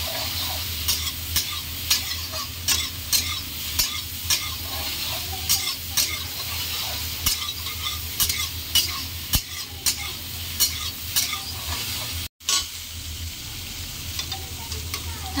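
Soybean chunks seasoned with salt and turmeric fry in a pan, giving a loud continuous sizzle with repeated scraping stirs at a steady rhythm and a brief break near the end.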